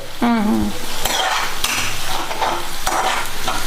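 Hibiscus hair oil cooking in a pan, stirred repeatedly with a metal utensil that scrapes and knocks against the pan over a loud bubbling sizzle, close and continuous with no talking.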